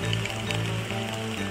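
Steady rain falls during a bicycle ride in Japan near Takayama, a constant close hiss of drops on the road with a low continuous hum underneath, no talking heard.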